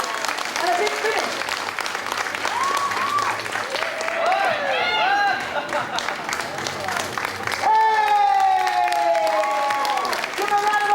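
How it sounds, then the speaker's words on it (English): An audience applauds at a circus show in Inuvik, producing a steady, dense wash of clapping that runs through the whole moment, with voices talking and calling out over it. "Give a round of applause!"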